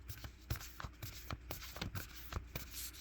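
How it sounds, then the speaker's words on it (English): Oracle cards from a rose-themed deck being shuffled by hand, giving a quiet run of soft papery riffles and taps in a repeating rhythm, close and faint with no talk. "Give it a nice good shuffle"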